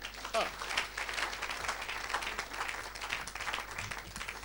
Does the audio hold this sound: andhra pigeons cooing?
no